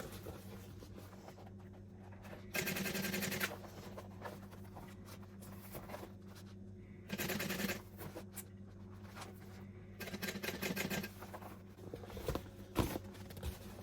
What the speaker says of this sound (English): I am going to top stitch the inside of this.